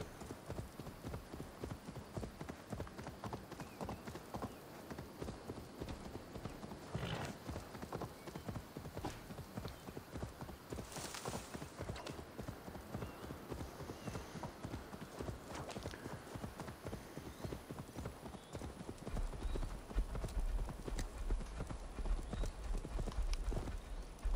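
Steady clip-clop of horse hooves as a rider carries a torch in the video game Assassin's Creed Valhalla, an even galloping rhythm running continuously and fairly faint throughout, with a brief whinny-like swell midway.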